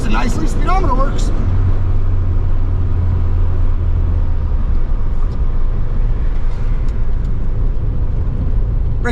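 A 1973 Volkswagen Super Beetle cruises along, its loud drivetrain droning and whining steadily inside the cabin under broad road noise, with a voice talking briefly near the start.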